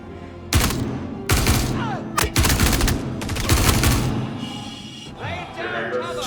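Shotgun blasts in the space game Star Citizen, several loud close booming shots in an irregular burst pattern, each with a short ringing tail, and a voice speaking in between.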